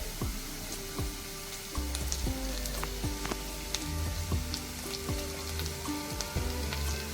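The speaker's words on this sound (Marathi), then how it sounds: "आता त्यामध्ये आपण कढीपत्ता टाकणार आहोत" Curry leaves go into onions frying in a pan for a monsoon wild-vegetable (bharang) dish, and the steady close sizzle grows louder and fuller partway through, with faint ringing tones running in the background.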